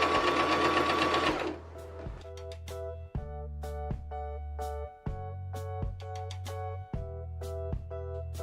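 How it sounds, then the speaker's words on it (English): Up close, a sewing machine stitches silver sequin curtain fabric in a steady humming run that stops and restarts several times. There is no talking over it. "you want to put that under your machine, eyeball your measurement, and you want to go ahead and start stitching just like we did before"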